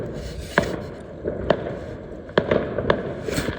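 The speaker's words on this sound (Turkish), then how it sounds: "Yani bu Hollandalılar kafayı bozmuş havai fişekle." New Year's fireworks and firecrackers bursting in a street in the Netherlands, sharp cracks and pops at irregular intervals, some near and some farther off, over a steady background rumble.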